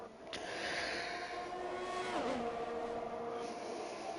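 F1 2021 race car driving slowly past at the Brazil race, a faint engine drone with a gentle pitch sweep as it goes by, over a steady background hum.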